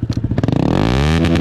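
A modified Honda CRF110 pit bike engine starts with a few sharp pops, then quickly climbs into a fast, buzzing rev that holds high and close.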